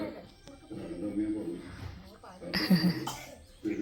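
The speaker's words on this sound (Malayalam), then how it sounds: "ചുമയാ." A child gives a short cough, close to the microphone and fairly faint, amid quiet talk.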